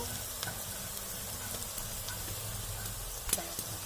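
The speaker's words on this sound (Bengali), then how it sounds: "মশলাগুলো দিয়ে আবার একটু কষিয়ে নিব।" Onions with garlic paste and spices fry in a pan for a Bengali chicken curry, a faint sizzle under light stirring scrapes and a few utensil clicks.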